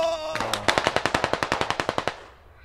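Automatic rifle fire in the tactical shooter Squad: a rapid burst of about sixteen evenly spaced, loud close shots lasting under two seconds, ending in a short decaying tail.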